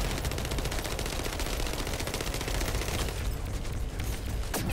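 Rapid crackling bursts of gunfire-like explosions from an upgraded Thunder Cage blowing up hummingbird enemies in The First Descendant, a dense, continuous loud barrage filling the whole stretch.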